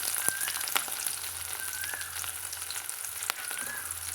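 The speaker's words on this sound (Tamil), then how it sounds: "நம்ம இதை வதக்கி விட்டுக்கலாங்க" Dal, green chilli and small shallots sautéing in a pan for radish poriyal, a steady close sizzle with a few scraping stirs and faint clinks, no talking.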